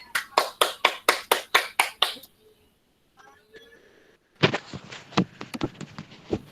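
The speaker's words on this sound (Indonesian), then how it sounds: "Aplaus dulu untuk Lulu." Classroom applause for a student's persuasive-text presentation, a run of about ten sharp, evenly spaced clap bursts, then a quiet gap with faint tones, then another burst of scattered clapping.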